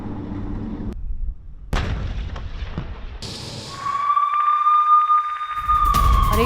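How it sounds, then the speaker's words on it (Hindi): IDF tank guns fire in Gaza in news footage, loud booming blasts with abrupt cuts between shots, followed by a rising siren-like wail, with no talk. "गाजा में आईडीएफ के टैंकों की फायरिंग का वीडियो आया है सामने"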